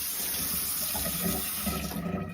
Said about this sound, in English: We have running water. See? Running water.